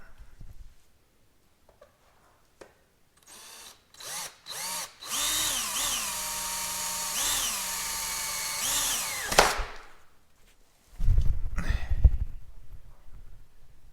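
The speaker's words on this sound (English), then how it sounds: "Let me drill them out and see if this works." A power drill whirs in several short bursts, then runs in a long steady whine with rising and falling pitch as it bores out holes for roof rails on a Sprinter van, close by.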